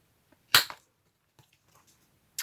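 A corner rounder punch clipping the corner of a handmade black velvet journal gives one sharp, close snap, followed by a few faint handling taps and a second short click at the end.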